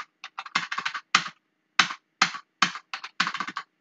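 Computer keyboard keys pressed while working in Marg ERP software: close, crisp clicks in quick irregular bursts with short pauses between runs of typing.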